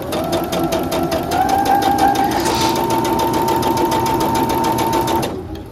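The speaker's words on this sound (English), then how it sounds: "So we're sewing along." A sewing machine stitches a teddy bear ski mask in a fast, even mechanical rattle of needle strokes, loud and close, running steadily for several seconds before stopping abruptly near the end.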